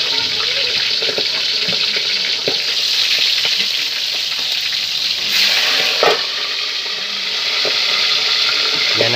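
Milkfish (bangus) frying in hot oil, a loud steady sizzle with scattered sharp pops and crackles throughout, close by and alone.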